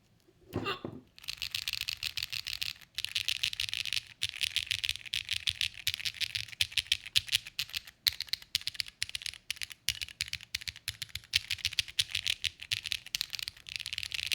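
Fingers type quickly on a custom-built mechanical keyboard, producing a continuous patter of crisp, close clicks and clacks, fairly quiet, after a brief rustle at the start.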